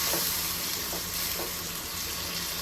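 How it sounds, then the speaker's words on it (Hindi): Nigella seeds and spices sizzle and crackle steadily with tomatoes in a hot pan close by, with faint sounds of stirring beneath the hiss. "कलौंजी डाल के हम इसको 1 से 2 मिनट अच्छी तरीके से भूनेंगे टमाटरों के साथ।"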